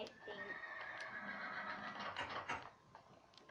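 A horse in Minecraft gives a clear whinny early on, followed by softer squealing neighs amid background game sounds, at moderate volume.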